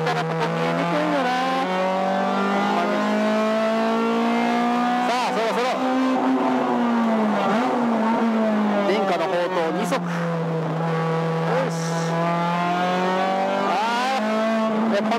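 A Honda Civic EK4 with a swapped B18C engine and stripped interior climbs steadily in pitch as it accelerates around the Okayama International Circuit, heard loud and close from inside the car, with brief gear-change dips and a driver talking over it.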